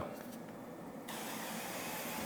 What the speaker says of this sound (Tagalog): So, mag-spray na tayo ng mantika dito.